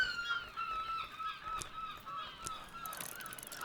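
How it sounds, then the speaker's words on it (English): Gulls at a colony on Crowcross Sands, out on the moor in the game Book of Hours, give repeated wailing, honking calls that overlap one another at a moderate distance. "Take a quick peek at the gull colony"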